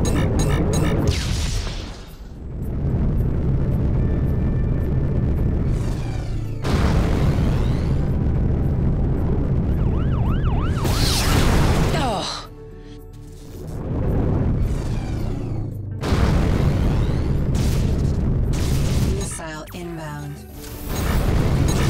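Missiles strike a ship in the space combat game Rebel Galaxy Outlaw. Heavy booming explosions and throbbing roars surge in several long bursts, separated by quieter hums, while voices talk over the radio.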